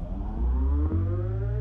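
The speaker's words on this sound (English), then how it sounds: "I took the bass, a bar of the bass, and one of the guitars, and just kind of like stopped them and had them ramp up in speed" A stopped bar of bass and guitar ramps back up in speed, a loud low droning tone rising steadily in pitch like a tape spinning up, alone without voices.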